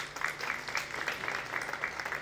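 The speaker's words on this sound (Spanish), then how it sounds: "por favor, un aplauso para él" A short, soft stretch of steady applause greets a panelist at a Spanish venture capital panel on fundraising. The clapping is dense but faint and distant, with no break.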